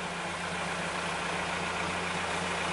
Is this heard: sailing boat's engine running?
yes